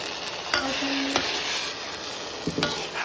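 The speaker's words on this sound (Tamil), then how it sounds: "இந்த தாளிச்சதெல்லாம் எடுத்து இந்த பருப்பில் இப்போ நம்ம கொட்ட போகிறோம்." Tempering being poured into cooked dal, a close, steady sizzle with spoon-stirring scrapes and a few sharp clinks of utensils against the pot.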